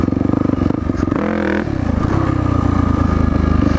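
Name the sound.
dirt bike engine revving during wheelie practice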